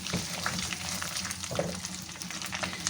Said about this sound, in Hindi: लहसुन अदरक का पेस्ट हमारा फ्राई हो चुका है